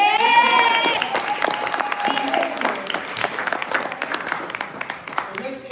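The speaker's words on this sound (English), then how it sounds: "let's give a round of applause to the trustees" A room at a town board meeting claps for the trustees, a brisk round of applause that starts loud and tapers over several seconds, with some talk and a few cheers mixed in.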